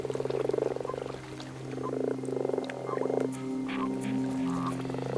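Several frogs croak and trill in overlapping bursts close by in a garden pond, a rhythmic chorus over a low steady hum, with no one speaking.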